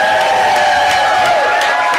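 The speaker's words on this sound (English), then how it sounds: "Let out a big cheer." A church congregation cheering at its first Sunday service in a new building, a steady, loud wash of crowd noise with whoops and scattered clapping, sustained throughout with no talking over it.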